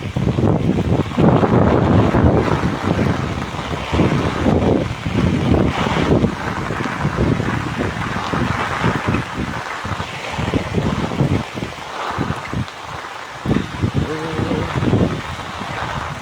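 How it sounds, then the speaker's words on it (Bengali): Strong wind buffets the microphone in a rainy rural setting near water, a loud, gusting roar that surges and eases throughout, with occasional thumps. "বাতাস আসছে, প্রচুর বাতাস আসছে"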